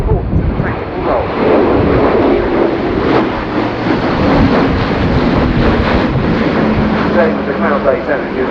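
An RAF Atlas aircraft flies at the RIAT 2019 airshow, a steady engine drone mixed with wind buffeting, while a commentator talks over it on a public address.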